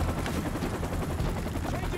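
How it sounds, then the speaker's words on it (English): A UMP submachine gun set to rapid fire rattles in a quick, dense run in Call of Duty MW2 Remastered, faint and continuous throughout. "the UMP with rapid fire"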